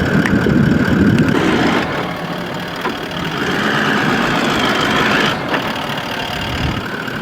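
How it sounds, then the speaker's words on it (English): A 2024 Toyota LandCruiser 70 series engine braking on a downhill run in low gear, a steady mid-pitched diesel drone with knocking texture that surges and eases, close and loud. "Just gonna drop down here before we head off and suss the engine braking out"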